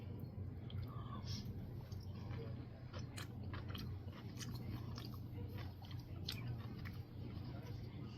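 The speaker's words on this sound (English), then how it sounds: "we've got to take our taste test" Someone quietly chewing a mouthful of pickle pasta salad during a taste test, soft wet bites and faint crunches repeating close to the mic against a low room hum.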